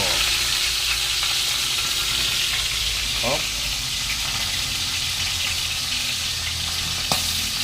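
Fish sizzles steadily in a pan of hot oil, with a constant loud crackling frying noise throughout, alongside a meal of fish soup with okra and pechay; someone speaks briefly over it.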